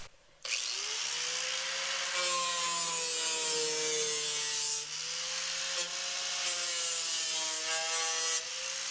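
A worn 60-grit grinding disc on an angle grinder takes sharp edges off metal while fitting a tire clearance kit, a continuous whirring drone with pitch dips as it bites, close and steady, no talking.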